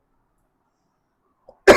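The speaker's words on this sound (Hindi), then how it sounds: "खांसी हो रही है" A single short, sharp cough breaks a near-silent pause in a classroom lecture and is cut off right as it starts.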